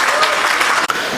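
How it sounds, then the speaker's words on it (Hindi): Short burst of dense audience clapping at an Urdu mushaira poetry gathering in Delhi, loud and steady with a brief dip near the end, no words spoken. "ज़रा एक बार और ज़ोरदार तालियां"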